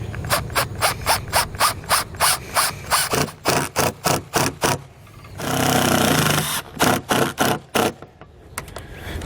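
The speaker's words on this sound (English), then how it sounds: "as we drive the screw through, that butyl tape is actually going to grab the threads and it's going to pull it into the hole" A screw is driven through butyl tape into an RV awning rail on a 2016 Keystone Cougar XLite fifth wheel, with a rapid rhythmic ratcheting or grinding from a power driver in close bursts and a steadier whir in the middle.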